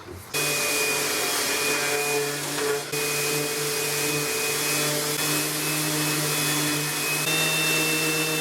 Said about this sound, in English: I'm going to do a bit of sanding on this, a bit of sanding on these legs